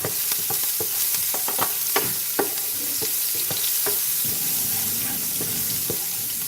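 Fire chicken (cheese buldak) sizzles steadily in a hot pan, with repeated sharp scrapes and clacks as the chicken is stirred, close and fairly loud throughout.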